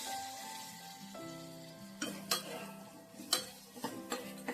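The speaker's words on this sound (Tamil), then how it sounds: "ஒரு தக்காளி போட்டுக்கிறேன், உருளைக்கிழங்கையும் போட்டுக்கிறேன்" Tomato and potato pieces go into a pan for Coimbatore-style rice and dal, followed by a few sharp clattering stirs of a utensil against the pan over a faint background hum, with no talking.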